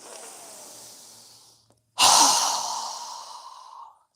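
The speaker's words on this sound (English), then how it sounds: "exhale through our mouth with a strong exhale" A strong, forceful exhale through the mouth during yoga breathing, a single loud breathy rush after a quieter breath, close up with no talking.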